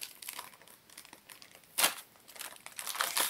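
Crinkling and tearing of a small plastic surprise packet being opened by hand, close and moderately quiet, with a sharper rip partway through and steady rustling throughout, no voices.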